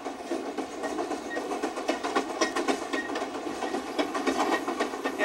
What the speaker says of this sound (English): the sound, the feel, the smell even of the diesel locomotive.